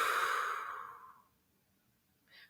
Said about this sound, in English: And I want you to breathe out.